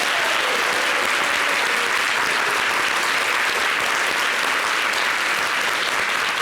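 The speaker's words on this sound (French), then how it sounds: "merci à ce chaleureux public qui va s'applaudir" Loud, sustained studio audience applause on a television show, a thick unbroken wash of many hands clapping at steady intensity throughout, close and full.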